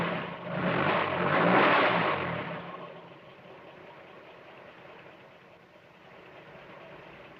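Fire engine motor from the Trumpton animation running, loud and rumbling for the first few seconds, then settling into a quieter steady idle for the rest.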